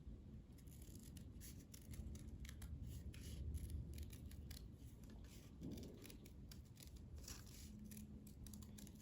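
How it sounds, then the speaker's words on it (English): Scissors cut steadily around a paper shape for a pop-up card, with a continuous run of quick, close snipping and rustling strokes at low volume. "I take my scissors and I cut around my shape"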